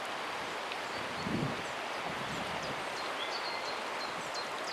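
Steady breezy wind outdoors beside a trout river, a constant broadband rush with faint rustling of leaves and possible distant birds, no voices.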